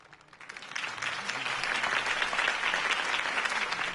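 Steady applause from a large crowd in a Batman video game, clapping swelling in the first second and then holding loud and dense throughout.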